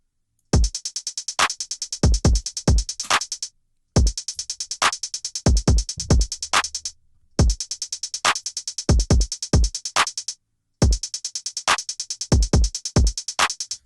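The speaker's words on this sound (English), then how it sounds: "Now I will make a pattern of hi-hats." A programmed FL Studio beat plays loud and dry: kick, snare and rapid hi-hat steps repeat in a tight pattern, broken by short silent gaps between loops.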